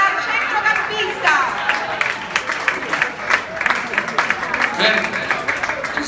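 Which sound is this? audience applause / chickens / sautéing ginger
audience applause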